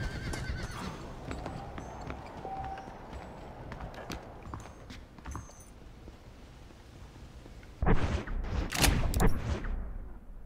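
A war horse in the Western video game Red Dead Redemption whinnies and its hooves clip-clop, with scattered sharp game sounds, then a louder burst of gunfire-like cracks near the end.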